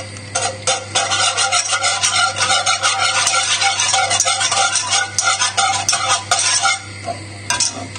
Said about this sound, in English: Sorry about the noise, I don't have a plastic whisk.